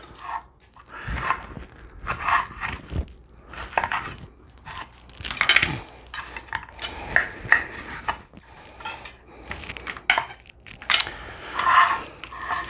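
A knife cutting through cooked ribs on a board, a series of separate crunchy, scraping cuts and knocks in an irregular rhythm, close and fairly quiet.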